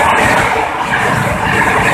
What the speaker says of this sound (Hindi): देख सकते हैं आप सभी कैसे हमारी भारतीय रेल तूफान की तरह दौड़ रही है।